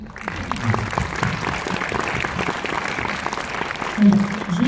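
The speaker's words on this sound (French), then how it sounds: "On peut applaudir Jean aussi, s'il vous plaît?" An audience claps steadily in a continuous, even patter of many hands, with a voice briefly cutting through near the end.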